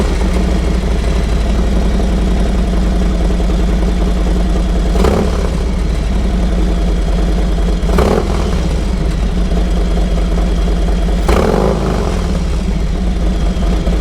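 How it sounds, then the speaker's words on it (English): A 2021 Harley-Davidson Road Glide Special fitted with Tab Performance exhaust idles close and loud, a steady deep lumpy thump with three sharp throttle blips spaced a few seconds apart. "Let's do a quick sound check."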